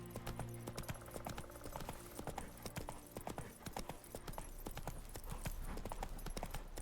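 Steady, rapid clip-clop of horse hooves galloping in The Witcher 3, loud and continuous with a rhythmic beat, carrying on throughout with game ambience beneath.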